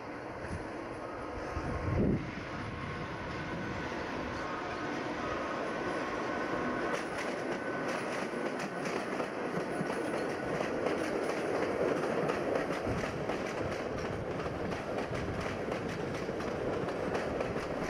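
A Hungarian State Railways (MÁV) M41 diesel locomotive runs steadily past in Hungary, its broad engine rumble and rolling wheel noise continuous throughout, moderately loud with a brief louder knock early on.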